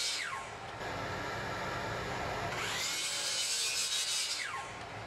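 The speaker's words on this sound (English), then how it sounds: "I then mark the final lengths and cut it down with my miter saw." A miter saw makes two rising-and-falling whines as it cuts a thin wooden panel planed to a quarter inch. The blade spins up, bites through the wood with a loud buzzing rasp, then winds down.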